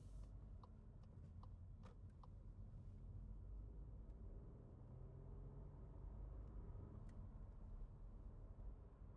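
Inside a Skoda Kamiq with a manual gearbox driving on an open road: a steady low road and engine rumble, with a few faint ticks early on and no voices.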